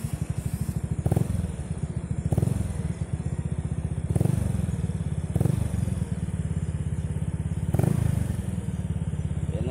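A motorcycle idles steadily close by while its speedometer cable is tested, a loud throbbing engine putter with rhythmic mechanical clanks recurring every second or so.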